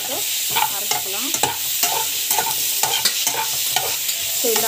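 Tomatoes and cinnamon sauté in a hot pan: a steady sizzle and frying hiss with repeated scraping stirs of a spoon against the pan, close and continuous, with no voices.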